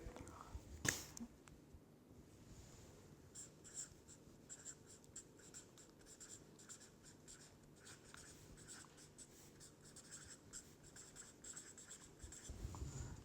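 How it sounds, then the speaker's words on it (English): A formula written by hand during a statistics lecture, giving a soft, continuous scratching of pen or marker strokes, close and faint, with a sharper tap near the start. "So let me write here"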